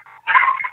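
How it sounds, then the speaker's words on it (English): Dogs yip and bark once in a quick, close burst at a house door, a short, sharp sound with a softer whine just before it. "My ridiculous dogs went off to the door."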